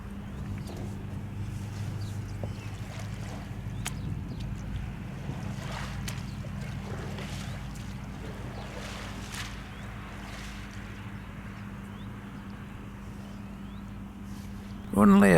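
A small Yamaha outboard motor drones steadily at a low pitch over wind and water on Loch Fyne on a freezing late-November day, with a sudden loud burst right at the end.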